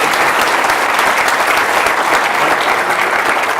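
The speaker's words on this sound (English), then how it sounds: "Let's give him another round of applause." Loud, sustained applause fills a keynote hall at a GIS in the Rockies conference, a thick, unbroken roar of many hands clapping at constant intensity from start to finish.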